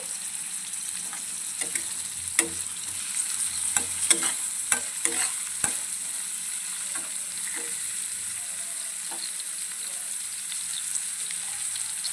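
Curry leaves go into hot oil for a baby corn stir-fry, giving a steady close sizzle with a cluster of sharp crackles and spatters early on that settle into an even hiss.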